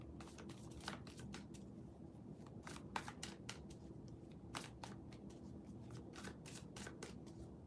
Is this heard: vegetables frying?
no